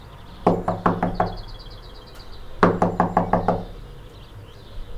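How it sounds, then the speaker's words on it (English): Two bursts of firm knocking on a house door in the early morning, about five raps each separated by a gap, close and loud over faint birdsong and no voices. "She knocks her door,"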